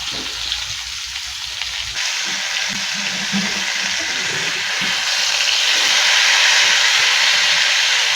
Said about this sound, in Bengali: পটলটা এখন ভাজা হয়ে গেছে